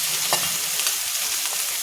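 Red amaranth greens stir-fried with browned onion and garlic in a pan: a steady, close sizzle with a few scraping stirs, no talking.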